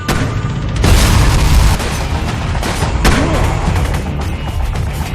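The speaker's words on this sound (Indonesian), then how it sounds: "Di saat baku tembak itulah" Heavy gunfire and booming explosions crash through a film firefight, loud dense bursts rolling one after another with a thick low rumble throughout.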